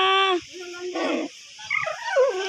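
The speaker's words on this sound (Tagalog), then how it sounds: "O ba't parang bagong aso ito?" Dog in a Filipino household barking, yipping and whimpering excitedly up close in short high-pitched bursts, no talk over it.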